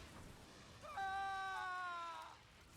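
A man's agonized scream in Star Wars: The Old Republic, a single sustained, strained cry rising near the middle of the moment and lasting over a second before cutting off, loud against quiet background.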